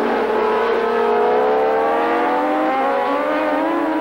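Racing motorcycles from the 1980 Swann Series at Sandown wind loudly through the gears, their engine notes sliding downward in pitch as they brake into a bend, close and continuous without talk.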